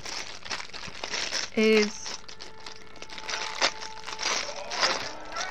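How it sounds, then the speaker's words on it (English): Cheap, very crinkly plastic bag handled while unboxing a model kit, giving scattered close crackles and rustles with one brief louder crinkle, quiet talk around it. "one of the cheap and nasty bags with the really crinkly plastic"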